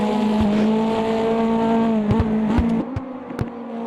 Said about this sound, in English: The only irritating thing is really this shifting sound.